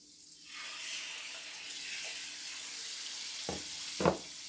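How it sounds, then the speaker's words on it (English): Shrimp dropped into a hot pan for shrimp scampi give off a steady, close sizzle, with a couple of sharper spits and crackles near the end as the pieces hit the oil. "I'm going to add in my shrimp."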